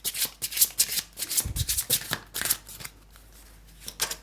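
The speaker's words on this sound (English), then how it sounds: "I have some other oracle cards that I'd like to shuffle and read" A deck of oracle cards being shuffled by hand in a quick series of crisp riffling bursts and slides, close and distinct, tapering off into quieter handling near the end.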